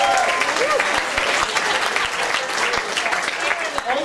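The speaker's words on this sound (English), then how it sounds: "A big round of applause." A comedy club crowd in Munich bursts into dense, sustained applause with scattered cheers, filling the room at a steady level.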